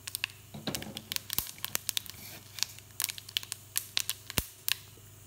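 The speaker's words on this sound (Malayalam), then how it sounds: "കടുകൊന്ന് പൊട്ടി വരട്ടെ." Mustard seeds are tempered in hot coconut oil for sambar and splutter in sharp, irregular pops and crackles. Quiet and close, with the pops scattered unevenly and no talk.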